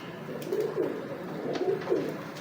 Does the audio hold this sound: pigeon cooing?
yes